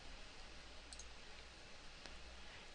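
A single faint mouse click on a register button while setting up a VoiceThread account, brief and sharp against near silence.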